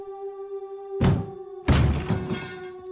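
A door being violently kicked, two heavy crashing thuds about half a second apart, loud and close with a rattling, splintering tail, over a steady low drone and no voices.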